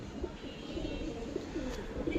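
Red-eyed fancy pigeons on a farm, Giribaz-type birds, cooing softly in low, repeated murmurs that run steadily under a faint background hum, with no talk.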